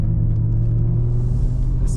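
A Renault Safrane 2.5 20V engine idles along in second gear with a smooth, low, steady rumble, close and constant with no revving.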